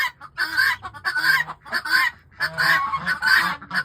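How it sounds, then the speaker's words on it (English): Guinea hens, geese and ducks call loudly on a cold farm, in a noisy overlapping run of harsh honks, squawks and clucks arriving in close repeated bursts. "We got the geese and ducks talking up a storm. Do you hear those guinea hens?"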